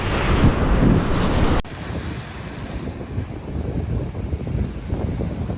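Ocean waves wash against a coastal rock fishing platform at Gerroa, NSW, a steady broadband surge with heavy wind buffeting the microphone in the opening seconds before settling into continuous, moderately loud surf.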